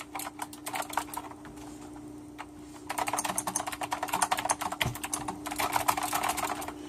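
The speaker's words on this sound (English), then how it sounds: "It's clicky. It's definitely a clicky board." Rapid clicky typing on an Azio MK Retro mechanical keyboard, sparse keystrokes at first, then a denser, louder burst of clacking key presses with no voices.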